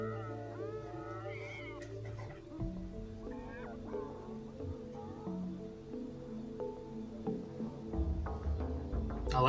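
Cat meows sound among background music in a trailer for the video game Stray, with a few short rising calls over a steady musical bed and livelier music toward the end.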